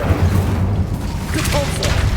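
The Incendio fire spell is cast in Hogwarts Legacy with a heavy low boom and rushing whoosh that last through the whole moment. Game noise rumbles underneath.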